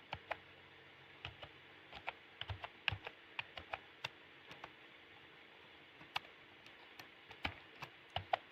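Keys clacking on a computer keyboard while a heading is typed into a web page, a quiet, irregular run of short taps spread across the whole stretch with no talking.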